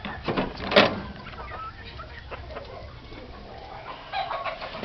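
Yellow-legged chickens, roughly three months old, cluck and call close by in a yard, with a sharp burst of sound near the start and softer scattered clucks and rustling after it.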